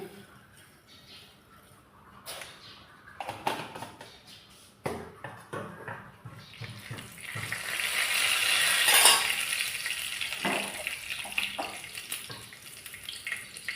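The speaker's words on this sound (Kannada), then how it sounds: "ಸಾಸಿವೆ ಸ್ವಲ್ಪ ಚಟಪಟ ಚಟಪಟ ಆಗ ಕರಿಬೇವು ಹಾಕುವ" Mustard seeds splutter and crackle in hot oil while tempering a hotel-style Mangalore sambar, a dense hissing crackle that swells and stays busy, broken by a few stirring knocks.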